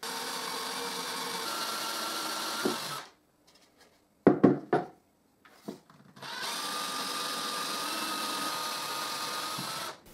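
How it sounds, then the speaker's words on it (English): Power drill boring guide holes into a wooden window frame of a display cabinet: long steady whirring runs at the start and end, with a quiet gap broken by a few short clattering bursts in the middle. "And I drill the guide holes in the window."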